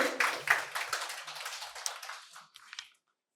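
Audience clapping for a quiz winner at a medical college event, a short burst of hand claps that thins out and fades to silence within about three seconds.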